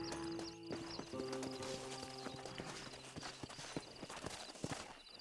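Horses gallop in Red Dead Redemption, a steady patter of hoofbeats with creaking tack and a whinny, loud and close, mixed with rolling game ambience.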